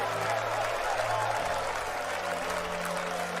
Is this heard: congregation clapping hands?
yes